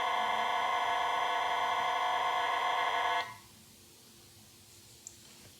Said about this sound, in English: people are still making use of audio to communicate with hardware.